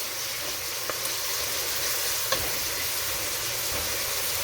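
Onions sautéing in a pan make a steady, close sizzle and hiss that runs the whole time, with a few faint clicks of a utensil and no voices.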